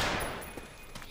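Gunfire in the zombie shooter Left 4 Dead 2, a few quick reports over a dense background of game noise, with a sharper shot right at the end.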